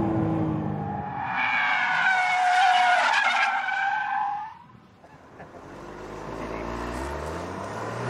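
A Porsche Cayman S loses control on a racing circuit, its tires squealing loudly in a long wavering skid for several seconds, then the engine note drops and rises again as the car recovers.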